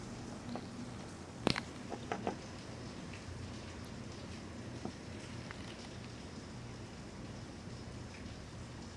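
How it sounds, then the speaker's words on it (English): Steady rain falls outdoors on a thundery day, a soft continuous patter with a few sharper nearby drops and taps, moderately quiet and free of talk. "Finally raining"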